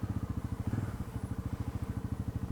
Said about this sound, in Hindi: So इसको डालते हैं हम न्यूट्रल पे एंड क्रैंक करते हैं गाड़ी